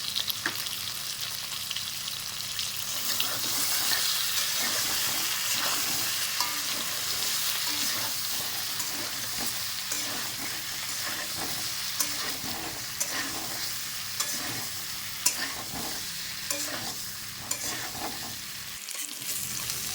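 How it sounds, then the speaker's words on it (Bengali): Taro pieces frying in mustard oil in a wok with salt and turmeric, a continuous sizzle broken by repeated scraping strokes of stirring at a steady rhythm, close and fairly loud. "গাঠি কচু ভাজা হয়ে গেছে,"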